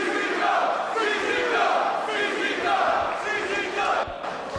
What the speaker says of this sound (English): Listen to this crowd, John